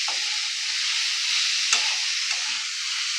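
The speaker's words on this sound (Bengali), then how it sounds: "এবার একটু ভালো করে নাড়াচাড়া করে কিমাটা আমি বানিয়ে নেব" Chicken mince with turmeric stirred in a pan over a slow flame, giving a loud, continuous hiss of frying with a few soft scrapes of the spoon, close and with no talking.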